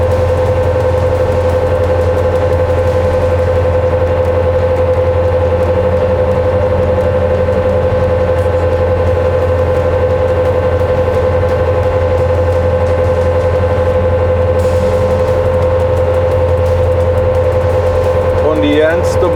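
A Bobcat HD open frame sweeper attachment runs at raised RPM on a skid-steer, a loud steady engine drone with constant hydraulic whine and hum, unbroken throughout with a brief rattle near the end.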